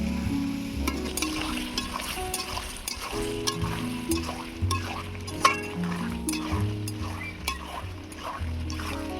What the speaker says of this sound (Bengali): জল দিয়ে আলু আর ওলকপিটা কষিয়ে নেব।